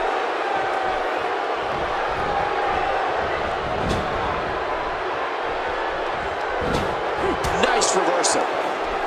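Arena crowd cheering at a SmackDown event in the wrestling video game WWE 2K17, a dense continuous roar with a few sharp impacts near the end, partly under commentary.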